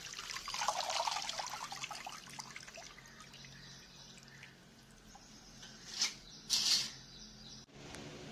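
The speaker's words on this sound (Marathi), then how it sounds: "तर हा माका आपण आता धुवून घेऊयात" Water trickles and splashes as false daisy (bhringraj) leaves are rinsed of soil, with a couple of louder sloshing bursts near the end and no talking.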